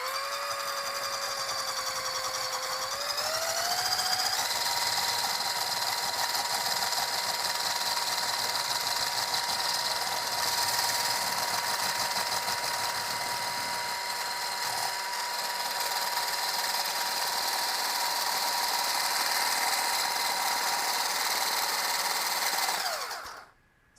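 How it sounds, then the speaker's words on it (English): Eggs for hojicha roasted green tea ice cream are whisked with a motorized whisk. It gives a steady whirring whine that rises in pitch early on, holds, then cuts off at the end. "I'm going to go ahead and whisk these eggs so that they get nice and creamy"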